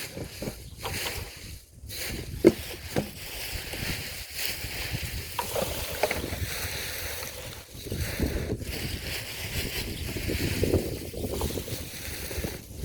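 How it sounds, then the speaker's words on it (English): Wind gusting outdoors in a garden during a warm spring work session, a steady broadband rush of buffeting air across the microphone that rises and falls throughout. "Got the wind down here too."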